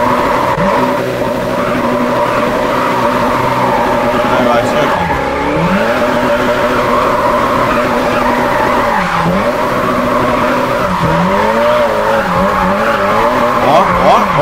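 Handbrake drifts in the Japanese Drift Master game: loud, continuous tire squeal over a revving engine, pitch swooping repeatedly as the car slides, with a voice talking at times.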